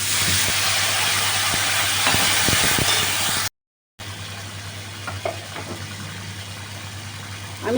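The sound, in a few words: masala with cumin powder and water cooking in pan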